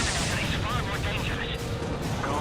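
Battle frame weapons firing in a mech combat game, dense continuous blasts and explosions layered loudly over a voice speaking in the foreground.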